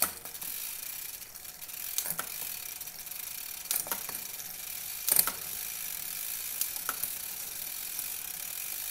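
A MicroShift Advent X shifter on a bicycle with a Shimano Deore derailleur clicks through the gears, with several separate sharp ratcheting clicks spaced over quiet background hiss.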